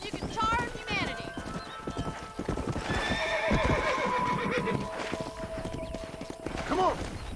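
Horse hooves clip-clopping with a loud whinny in Red Dead Redemption, the hoofbeats steady and close while a voice talks over them.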